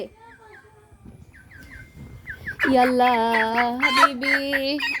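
A chicken that has got loose clucks in a few short, quick calls, then a loud, shrill rooster-like squawk carries on close by for several seconds.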